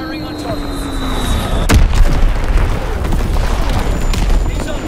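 Artillery bombardment explosion in a video game: one sharp, loud blast that sets off a heavy, sustained rumble of booming fire, with a steady whine fading out before the hit.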